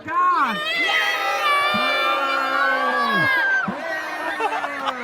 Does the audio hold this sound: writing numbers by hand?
no